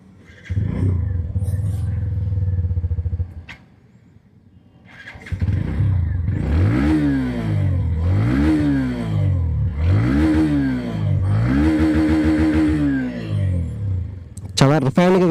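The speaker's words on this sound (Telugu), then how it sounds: "సో ఫస్ట్ ఆఫ్ ఆల్ మనం దీని యొక్క ఎగ్జాస్ట్ సౌండ్ అయితే విందాం." A Hero Glamour X 125cc motorcycle engine idles steadily, falls quiet briefly, then catches again and revs through a series of rising and falling bursts from its exhaust, close and loud.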